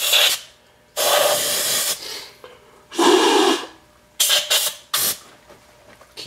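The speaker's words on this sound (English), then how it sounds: "Might as well spray that just a bit." Bursts of spray hiss close up while cleaning debris out of engine intakes, in about five separate blasts of one to two seconds each, with short quiet gaps and no talk.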